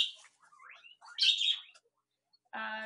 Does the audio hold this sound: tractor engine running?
no